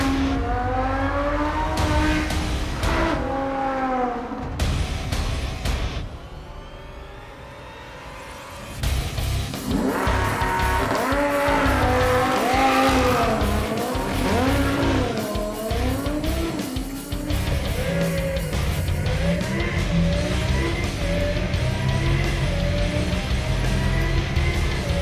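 A tuned, supercharged Lamborghini Huracan drives hard, its engine revving and rising in pitch between gear changes while tires squeal in repeated bursts, loud and close, with no talk.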